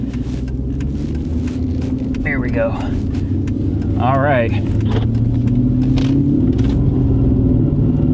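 A car's engine runs at a steady idle after a cold start on a freezing, sleety day, with a low continuous rumble and a slight rise in revs partway through, while someone briefly talks over it.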